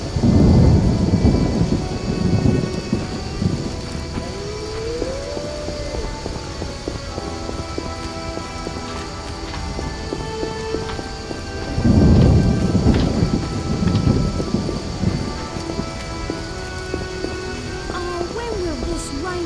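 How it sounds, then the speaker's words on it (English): Steady rain and rolling thunder fill a city district of elder races in The Witcher video game, with two loud thunder rumbles breaking through the constant downpour, near and heavy, and no voices. "When will this rain stop?"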